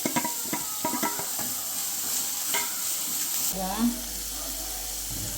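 Shredded cabbage and carrot for momo stuffing sizzle and get tossed in a hot pan, with scraping stirring strokes and clatter over a steady frying hiss; a voice speaks faintly in the background.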